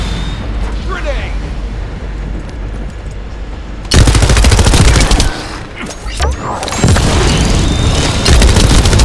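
A grenade blows up in the video game The First Descendant, a sudden loud boom that breaks in over quieter gameplay noise and is followed by dense rattling gunfire and further blasts.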